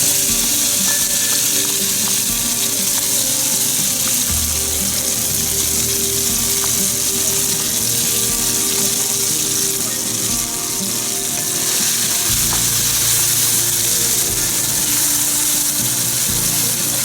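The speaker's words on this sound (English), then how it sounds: "To that I have fried onion paste, and we're going to put this in." Fried onion paste hits hot oil in a frying pan while making Mughlai chicken, giving a loud, steady sizzle that runs throughout with occasional stirring scrapes.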